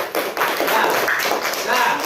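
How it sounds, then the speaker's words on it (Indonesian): A class of students applauds together in a classroom, a fairly loud burst of mixed clapping and tapping with voices chattering over it throughout. "tepuk tangan dulu untuk kita semua"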